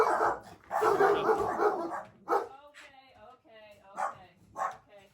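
German Shepherd dogs barking in the dog room of a log home in Fairbanks, Alaska; a few sharp, close barks ring out after and between stretches of people talking.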